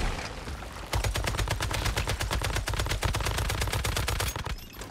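Sustained automatic gunfire from the Once Human video game: a dense, rapid run of loud shots fires steadily for about four seconds after a short lead-in, then stops abruptly.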